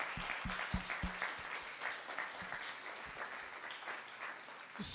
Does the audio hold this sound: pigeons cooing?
no